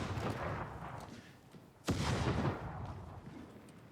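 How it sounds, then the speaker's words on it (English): A fire grenade detonating in the video game Warhammer 40K: Darktide, heard as one sharp, loud blast that leaves a crackling roar fading over the following seconds, amid ongoing combat noise. "It's just a big fiery grenade, you know."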